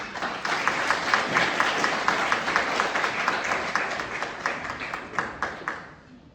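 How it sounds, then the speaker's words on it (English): Audience applause at a high school club symposium, a steady dense patter of many hands clapping for several seconds before tapering off at the end, moderately loud and without talk. "Please give a round of applause for Professor"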